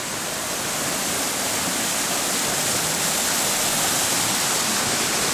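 A mountain stream rushes steadily along a trekking trail near Sa Pa, Vietnam, as a loud, continuous broadband roar of water close by, with no voices.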